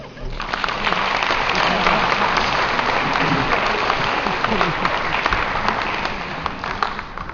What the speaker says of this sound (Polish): Serdeczna brawa.